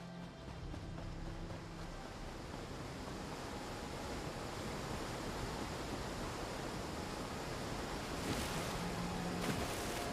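Water in The Elder Scrolls Online: Elsweyr washes and surges in a steady broadband rush of waves, continuous and fairly loud, with wind-like hiss and no pauses.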